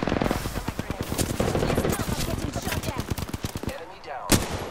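Rapid automatic gunfire crackles in a shooter video game, dense bursts of shots close and loud, with a brief pause before a final sharp blast.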